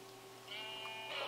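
A single drawn-out Minecraft sheep bleat with a wavering, slightly synthetic tone, faint and clean against a quiet background.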